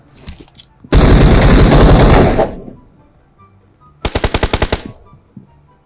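Gunfire in the PUBG Mobile video game: a loud sustained automatic burst lasting over a second, then a quick rapid string of about eight sharp shots, close and punchy, with faint game sounds between.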